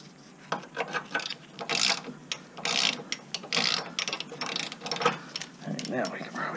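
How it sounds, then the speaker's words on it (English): A socket wrench ratchet works loose a bolt on a Nissan Murano during lower control arm repair, with a series of close, uneven clicking and scraping strokes. "Let's loosen that up with a socket real quick."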